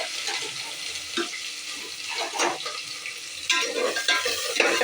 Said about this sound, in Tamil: இப்போ வெங்காயம் நல்லா வதங்கிட்டுருக்கு.